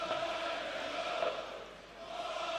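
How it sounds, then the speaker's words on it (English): Darts crowd at the World Darts Championship singing a chant for player Ryan Meikle, a steady, distant mass of voices filling the arena without pause. "Hear the crowd singing there's only one Ryan Meikle."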